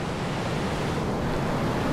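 Sea waves wash continuously at the seaside at sunset, a dense, steady rush of surf mixed with wind noise.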